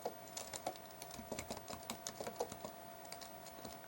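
Rapid typing on a computer keyboard, including presses of the enter and backspace keys, a fast close-up run of crisp clicks with uneven rhythm and no talking.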